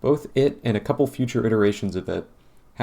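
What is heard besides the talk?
None of the usual background noises is heard.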